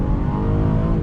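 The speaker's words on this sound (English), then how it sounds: "We're getting back on throttle here." The engine of a 2019 Acura MDX A-Spec SUV pulls under throttle, a steady loud drone with a rich low hum, heard briefly from inside the cabin.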